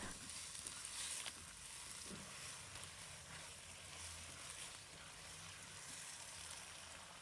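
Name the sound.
stir-frying Chinese broccoli (gai lan) in a wok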